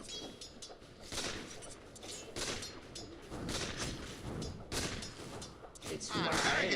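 Rapid gunfire and bursts of shooting in the Dota 2 video game, dense repeated shots throughout with a louder stretch at the end, mixed with game voices.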